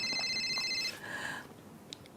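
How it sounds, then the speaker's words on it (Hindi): An electronic telephone ringtone trills in the first second as a tight cluster of high tones, then gives way to a softer, brief tonal sound and faint background noise in an indoor comedy-show setting. "फेमस लाल जी, आपके फैन का फ़ोन आया है।"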